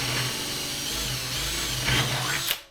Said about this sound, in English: the floor panel comes out again for the holes to be drilled.